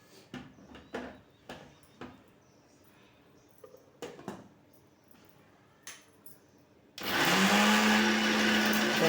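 Close, scattered clicks and handling knocks give way to a mixer grinder suddenly roaring at full power, loud and continuous, grinding brinjal for chutney.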